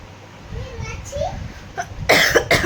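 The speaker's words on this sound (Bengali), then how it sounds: "এখন কাশি ধরেছে ঠান্ডার সাথে সাথে।" A woman coughs repeatedly from a lingering cold, several harsh bursts close by near the end, after quieter background sounds.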